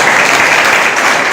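A church congregation clapping loudly during a service, a dense, continuous burst of applause filling the space from start to finish.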